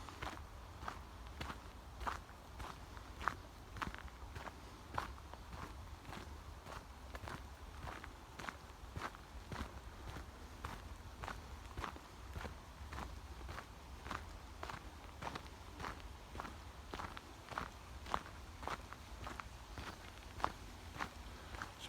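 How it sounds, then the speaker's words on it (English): Footsteps walking outdoors on a slightly overgrown trail, a steady even rhythm of soft crunching steps close by, fairly quiet, continuing throughout with no talk. "Sorry about the noise of my feet."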